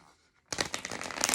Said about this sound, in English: I'm going to shuffle them one time.